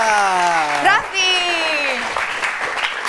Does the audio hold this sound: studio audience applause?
yes